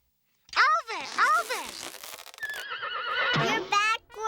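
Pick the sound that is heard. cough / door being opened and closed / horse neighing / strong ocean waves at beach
horse neighing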